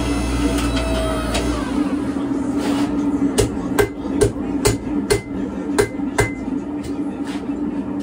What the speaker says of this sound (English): use the press and the anvil to straighten and flatten them